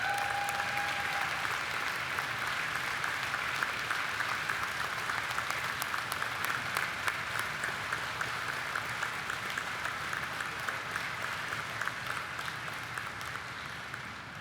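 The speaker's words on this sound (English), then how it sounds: "Please give him a round of applause." An audience at a Distinguished Service Medal ceremony gives a long round of applause for the Adjutant General, Kevin Jones. The clapping holds steady and full for about fourteen seconds, with a brief tone at the start and a slow tail-off.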